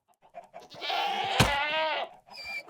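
A screaming goat in the Minecraft video game lets out one long, loud, wavering bleat that rises into a strained cry, with a few shorter bleats on either side.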